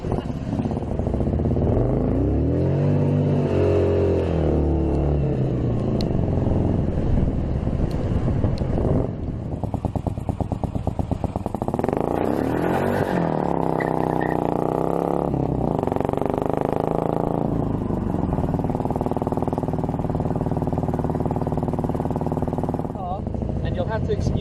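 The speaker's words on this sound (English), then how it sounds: "2-litre Harley V-twin engine" Morgan 3 Wheeler with a 2-litre Harley V-twin driving in the rain, its loud engine rumble rising and falling through gear changes under heavy wind buffeting, with someone talking over it.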